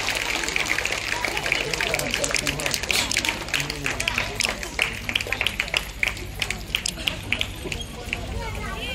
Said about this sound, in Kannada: ಜೋರಾಗಿ ಚಪ್ಪಾಳೆ ತಟ್ಟಬೇಕಮ್ಮ